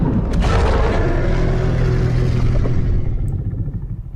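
A creature's stomp attack in the video game Ark: Ragnarok Ascended lands as a loud, deep booming rumble with a sharp impact at the start, then rolls on heavily before fading near the end.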